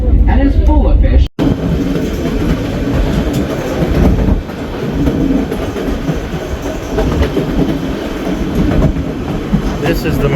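White Pass scenic train running, with a loud close rumble and clickety-clack of wheels on rails, a brief dropout early on, and voices talking over the steady rolling noise.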